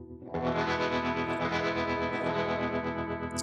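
An electric guitar chord rings through a Universal Audio Dream '65 amp pedal with the volume up for mild overdrive, sustaining loud and close with a shimmering, slightly modulated edge and no talking.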